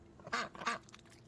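A pet duck quacks twice in quick succession, two short raspy calls close by, followed by faint fainter rustling.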